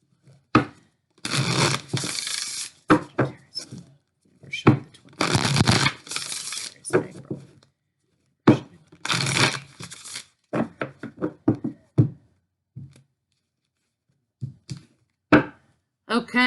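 Tarot cards shuffled in bursts of riffling and rustling, with several dense crackling runs separated by sharp taps and thumps as the deck is squared and laid down, close and fairly loud.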